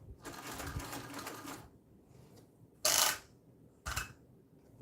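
A sewing machine top stitching along a seam runs in a steady whirring burst for over a second, then pauses, followed by two short sharp mechanical clacks, close and moderately loud.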